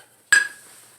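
A square metal pizza pan is set down on a floured kitchen counter, giving a single sharp clank that rings briefly and fades into quiet.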